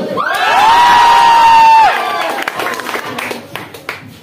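At a school, a crowd of students lets out a long, loud cheer and shout, then fades into scattered whoops and chatter.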